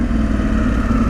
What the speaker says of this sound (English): Over revving on the down change in a second.